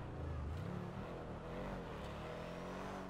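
A modified car engine in GTA 5 Online revs steadily, a close, droning motor with rising whine and continuous low rumble throughout the short burst.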